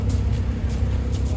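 Low, steady rumble of a Porsche car on a city street on a Saturday night, close and fairly loud throughout with no talk over it.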